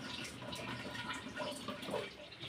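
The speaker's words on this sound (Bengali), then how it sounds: "কুকারে জলটা ফেলে দিই" Water being poured off from a pressure cooker in a home kitchen, a steady rushing, splashing stream that stays fairly quiet and even throughout, with no talking.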